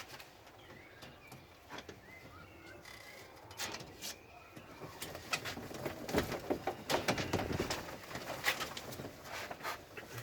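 Pigeon chicks of a long-flying curtain-winged breed coo and call softly in a loft, with scattered rustles and clicks building in intensity toward the end.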